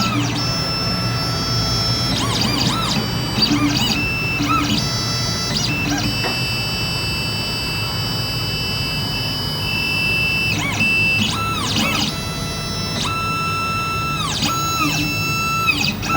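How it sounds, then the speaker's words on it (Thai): A Xhorse Dolphin XP-005 key cutting machine calibrating gives off steady electronic whines and tones with repeated stepping motor sweeps rising and falling over a low hum, close and continuous. "เครื่องจะทำการแคลิเบตเครื่อง"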